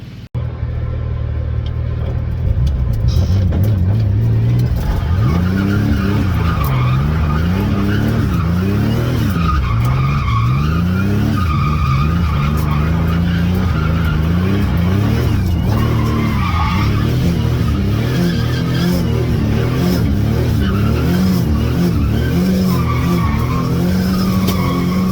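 A car on a test drive roars loudly and steadily close by, with engine rumble and repeated tire squeals and skidding running through the whole stretch, and no one talking.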